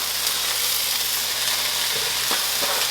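Already-cooked rice tipped into a hot frying pan for pineapple jerk chicken fried rice, giving a loud, continuous hissing sizzle with a couple of scraping stirs near the end and no voices.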